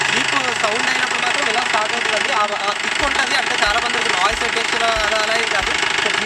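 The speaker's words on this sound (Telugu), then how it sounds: "So basically engine sound, jeep sound అయినప్పుడు మాత్రం ఇలా స్టార్ట్ అవుతుందండి." A jeep engine idling nearby, a continuous rough rumble with a regular knocking pulse, heard under someone talking over it.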